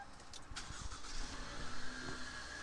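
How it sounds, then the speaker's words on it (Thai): Push-button ignition of a VIP-class family car starting its engine, a short broadband cranking surge settling into a steady mid-pitched hum, close and fairly loud with no voices. "เดี๋ยวขออนุญาตสตาร์ทรถนิดนึงนะคะ"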